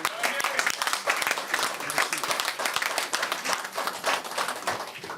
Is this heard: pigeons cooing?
no